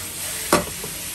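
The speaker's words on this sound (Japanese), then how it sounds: "醤油は鍋肌に入れてちょっと焦がし醤油にします。" Soy sauce poured onto the hot edge of a pan while stir-frying oatmeal with kamaboko and chicken stock powder gives one sudden loud sizzling burst over steady frying hiss, then fades quickly.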